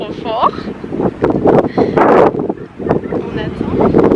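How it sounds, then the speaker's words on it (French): Strong wind at the beach buffets the microphone in a constant heavy rumble, loud and close, while someone talks over it in bursts. "je sais pas si vous m'entendez avec le vent"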